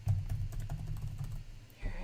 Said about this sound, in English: So I started typing.